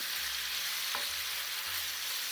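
Chicken pieces frying in a pan over a high flame, a steady hissing sizzle throughout with a couple of soft stirring knocks; no talking.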